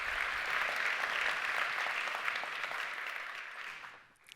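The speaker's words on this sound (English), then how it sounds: "Let's give another round of applause" Awards-ceremony audience at a summit gives a sustained round of applause, steady dense clapping that fades away in the last half second.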